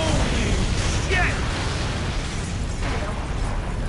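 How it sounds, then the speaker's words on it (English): A loud, sustained explosive roar with rumbling debris in the video game Mafia 2, the blast filling the whole stretch without a clear gap. "That was a big explosion."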